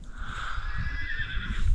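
A horse whinnies at a Mongolian campsite, a sustained shrill neigh over low rumbling background noise, moderately close.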